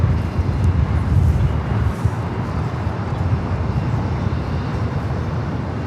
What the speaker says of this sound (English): another 777, this time a 777-200 coming in from Chicago. Flight 1363 with United.